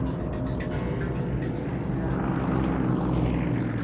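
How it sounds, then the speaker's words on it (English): Yak formation aerobatic propeller aircraft fly past in poor weather at an airshow, a loud continuous propeller engine roar that swells slightly toward the end, with no talk. "the Yak is indeed a wonderful formation aerobatic aircraft"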